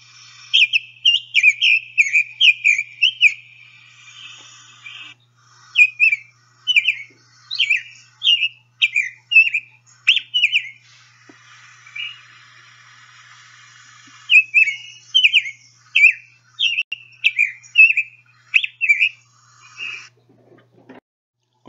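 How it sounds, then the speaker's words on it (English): Summer tanager song: repeated phrases of sweet, slurred whistled notes in quick runs, paused between phrases, recorded close and clear over a quiet background. "So here are some summer tanagers."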